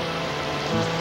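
Steady rain falls in a continuous, even hiss of drops on a surface, with no voices.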